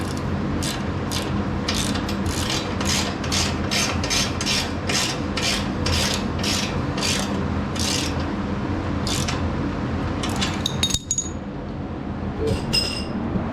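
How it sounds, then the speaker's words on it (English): Repeated rhythmic ratcheting strokes from a wrench tightening nuts on the rear sprocket of a Coleman CT200U-EX minibike, steady and close over a constant background hum, ending with a few metallic clinks. "Now we'll tighten our nuts right here."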